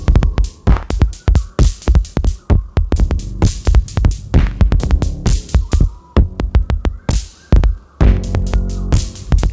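A Pulsar-23 modular drum synthesizer patched with a clock divider, attenuator and switch pounds out loud, rapid percussive hits and thumping pulses drenched in reverb, steady and driving throughout with nobody speaking.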